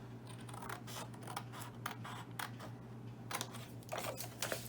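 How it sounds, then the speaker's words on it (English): Scissors snip through a paper greeting card in a series of short, crisp cuts over a steady low hum, close and fairly quiet. "If I were to use my existing card, just cut it"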